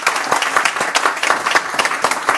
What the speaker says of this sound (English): Please join me in giving my panel a fantastic round of applause